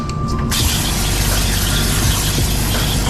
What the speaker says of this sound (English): You hear the pump kicked on?